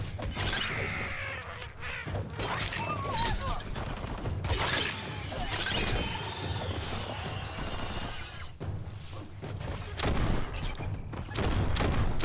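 Gunfire in the video game Biomutant, a weapon shooting into the air: repeated sharp bursts and rattling shots scattered across the clip, mixed with mechanical clanks and other busy game effects.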